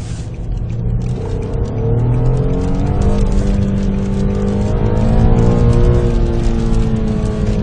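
A car driven fast around Watkins Glen raceway is heard from inside: a loud, steady engine drone with rising and falling harmonic tones as the revs climb and ease through high gear, with constant road and wind noise.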